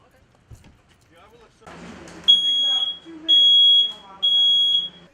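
A smoke alarm sounds three loud, piercing beeps in sequence, each held about a second, after a stretch of quieter mixed sound that includes a brief voice.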